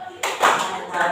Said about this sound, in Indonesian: Ambil tepuk tangan